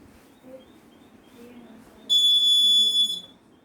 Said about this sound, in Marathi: ते या सेन्सरच्या समोर काही आले तर हे बझर वाजतं.